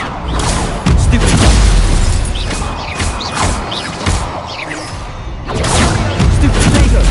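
Stupefy spell cast in the Hogwarts Legacy video game: repeated heavy booming magical blasts and crashes, loud and close, arriving in bursts with busy game effects between them.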